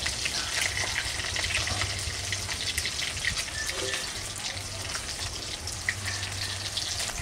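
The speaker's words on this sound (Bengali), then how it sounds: "মাছ আমার লাল লাল ভাজা হয়ে গেছে, আমি তুলে নেবো" Oil sizzles and crackles steadily as pieces of katla fish fry, a continuous bright hiss with scattered pops and no talking.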